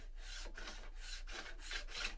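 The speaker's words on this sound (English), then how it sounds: "I'm just going to rest this right against the edge of my scraper, and I'm just going to take a few strokes of this" A file rasps in four or five steady, even strokes across the edge of a woodworking card scraper, each close, gritty stroke separated by a short pause.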